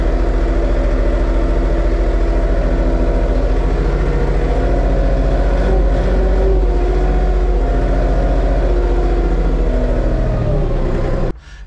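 An Arbos tractor engine (2025 model) runs steadily while driving slowly, a loud low droning rumble with harmonic hum that holds constant throughout before cutting off abruptly at the end.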